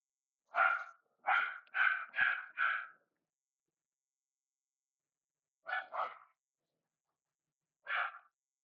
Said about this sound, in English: So the dog's gonna bark for a bit.